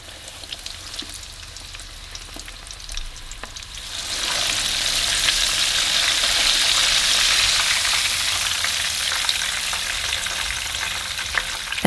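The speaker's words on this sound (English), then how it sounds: "And then place this into a colander and fry up your second batch." Shrimp drop into hot oil for deep frying: a quieter crackle gives way to a loud, dense, continuous sizzling hiss that holds steady close up.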